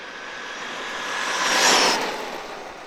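A Traxxas Maxx 4S RC truck whines past outdoors, its electric motor rising to a close peak and fading away, alone without talk.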